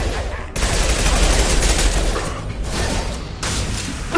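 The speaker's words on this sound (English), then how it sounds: "Taking heavy fire!" Heavy gunfire pours out during a Mass Effect 2 firefight, dense overlapping bursts and shots forming a loud continuous barrage that breaks off briefly and then resumes.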